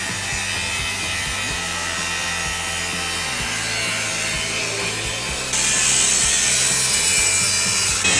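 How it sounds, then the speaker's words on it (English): Cloth wiping dust off a new part for a JCB forklift on a farm, a steady close rubbing and scraping that runs continuously and grows louder partway through. "Just need to give it a wipe now because there's dust all over it."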